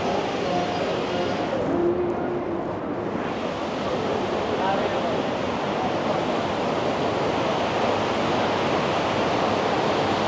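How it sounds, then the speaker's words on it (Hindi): Mountain stream water rushing downhill at Darband in Tehran, a continuous dense roar of flowing water that fills the scene steadily and loudly, with no clear voices over it. "ऊपर से पानी ही पानी नीचे की तरफ आता जा रहा है।"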